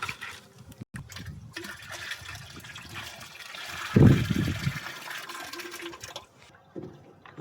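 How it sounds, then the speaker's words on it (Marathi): Water is poured into a jeevamrut mixture of soil, cow dung and urine, giving a soft trickle that surges into a brief heavy gush near the middle, then fades. Nearby and with no talk. "आणि हा पाणी आता आपण याच्यामध्ये घालणार आहोत."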